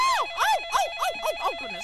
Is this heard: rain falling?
no